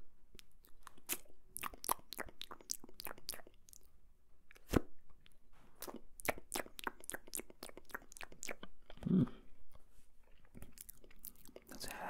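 Close, quiet mouth sounds from an ASMR eating roleplay recorded on a Tascam: rapid wet crunches, clicks and chewing in irregular bursts, with a soft murmur of whispering underneath.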